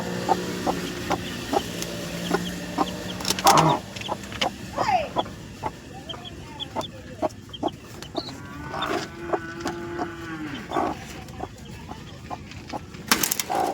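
Newly hatched Sonali breed country chicken chicks cheep in repeated short, sharp peeps, close by, with a few louder fowl calls breaking in over a low farmyard background.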